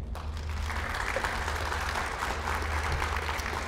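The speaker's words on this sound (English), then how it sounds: "So give yourself a round of applause." A crowd at an annual business meeting applauds loudly and continuously, a dense steady clatter of many hands close by.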